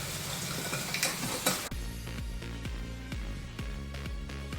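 A spoon stirs chia seeds, sugar, turmeric and coconut milk in a bowl, with a muffled rustle and then a run of sharp, evenly spaced clinks against the bowl, close and clear.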